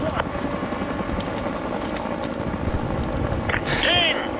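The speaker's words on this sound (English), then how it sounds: "Take down that helicopter!" A helicopter in the video game Call of Duty Modern Warfare 2 gives a steady, loud rotor drone under continuous game noise, with a brief chirping tone near the end.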